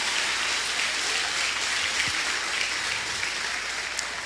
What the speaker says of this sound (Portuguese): Se é para Deus, pode ser melhor esse aplauso.